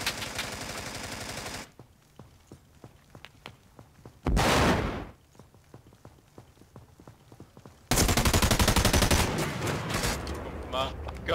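A gun in a shooter game fires through a whole magazine in rapid automatic bursts, loud and close, broken by a short pause and another long burst, with brief talk in between.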